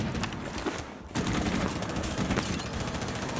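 Dense, continuous gunfire in the video game Rainbow Six Siege, with rapid bursts and overlapping shots, loud throughout, briefly dropping out for a moment before resuming.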